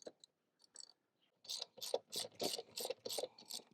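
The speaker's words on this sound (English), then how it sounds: "We're going to unscrew it. Take the nut off of that one side." Ratchet wrench unscrewing a nut on the rear shock of a Segway Xyber e-bike, a few soft clicks followed by a quick, even run of close ratcheting strokes, quiet and alone.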